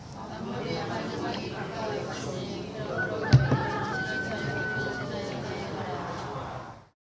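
A rooster crows faintly in the distance during a church sermon, a thin drawn-out call heard over steady room noise with a sharp knock partway through.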